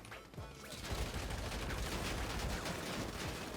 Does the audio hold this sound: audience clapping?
no